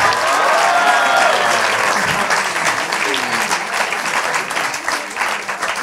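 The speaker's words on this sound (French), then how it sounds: "Caroline Béard, je voudrais qu'on les applaudisse." A large audience at a cinema event gives a loud, dense burst of applause that stays strong and continuous, then thins slightly toward the end, with no speech over it.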